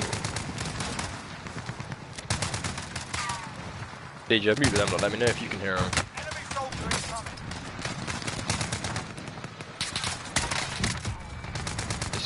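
Rapid video game gunfire, dense bursts of automatic shots crackling almost nonstop with a louder, heavier stretch midway, mixed under people talking.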